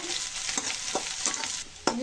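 Onion and spices fry in a wok of hot oil, a constant close sizzle broken by several sharp scrapes of the spoon as they are stirred.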